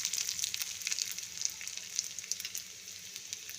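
Mustard seeds and ginger fry in hot oil for a curry, giving a quiet, crackly sizzle with tiny pops that fades slightly toward the end. No one speaks.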